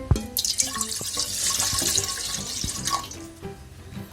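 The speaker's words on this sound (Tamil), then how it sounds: "இப்போ நம்ம இட்லி பாத்திரத்துக்குள்ளே 3 டம்ளர் தண்ணி சேர்த்துக்கலாம்" Water poured from a tumbler into an idli steamer pot, a splashing, trickling stream with drips and ringing metallic clinks, moderately close and alone.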